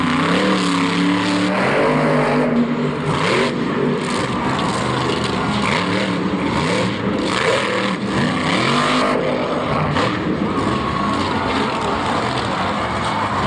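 A monster truck engine roars loud and close at a Monster Jam event in Orlando, a continuous ragged, throttling blare that surges and dips throughout with no voices over it.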